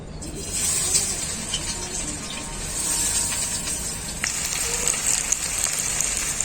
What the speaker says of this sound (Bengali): তেল খুব ভালোভাবে গরম হয়ে গেছে আমি এখন কেটে রাখা কুচনো পেঁয়াজগুলো দিয়ে দেবো